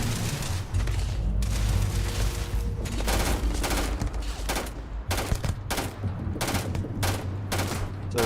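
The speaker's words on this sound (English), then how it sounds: "tap firing's definitely the way to go with this thing at long range" A gun tap-fired at long range in the Starfield video game, with rapid irregular bursts of sharp shots and booming reports over a constant rumbling background, loud and close.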